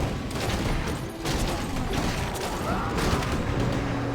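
Rapid bursts of rifleman fire in Warcraft 3 Reforged, crackling volleys layered over a dense, busy battle din.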